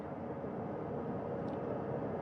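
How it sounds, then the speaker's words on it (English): Helicopter flying near a recovery ship during an astronaut recovery at sea, a steady broadband rotor and engine roar at moderate distance, continuous and even with no voices. "That second helicopter now making its way"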